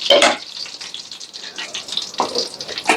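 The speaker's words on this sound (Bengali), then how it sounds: "আমি এই যে মাংস যে রান্না করছিলাম ওই তেলটা কিন্তু দিয়ে দিচ্ছি।" Oil flavoured by fried beef, masala and ghee is poured into a beef biryani pot, giving a couple of sharp sizzling bursts with softer crackling in between.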